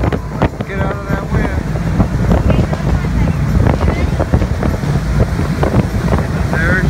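Strong wind buffets a boat out on San Francisco Bay, giving a loud, steady roar of wind against the microphone with water and hull noise beneath it. Voices speak briefly through the gusts.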